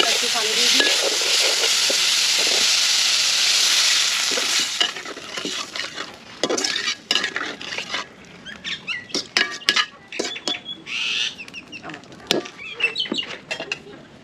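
Potatoes fry in a pan with a loud steady sizzle for several seconds, then irregular scraping and clattering stirring strokes take over as the sizzle fades.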